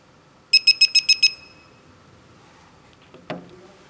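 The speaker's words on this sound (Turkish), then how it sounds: "Cihaz 6 kısa bip sesi verir ve kapanır." Six short, evenly spaced high-pitched electronic beeps in quick succession from an RS PinPointer metal detector pinpointer switching off, followed by quiet and a brief faint click.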